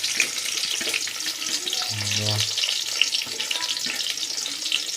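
Onions hitting hot oil in a cooking pot for a fish dish, a steady frying sizzle with a brief low thud near the middle, close and moderately loud.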